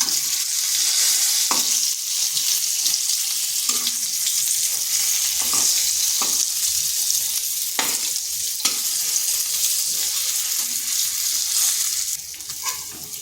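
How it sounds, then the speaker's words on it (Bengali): Pieces of pointed gourd fry in hot oil in a kadai, a loud continuous sizzle broken by occasional knocks of a spatula scraping and stirring the pan. No one speaks. "পটলটাকে এইভাবে নেড়ে চেড়ে একটু লাল লাল করে ভেজে নিতে হবে"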